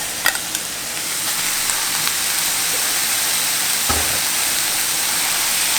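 Ground beef fries with tender onions in a pan, a constant broad hissing sizzle with a few faint clinks and one soft thump, no talking.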